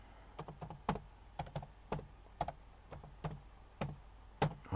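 Keystrokes on a computer keyboard while a maths function is entered, a quiet, uneven run of sharp clicks in small bursts and single taps, close by with no voice.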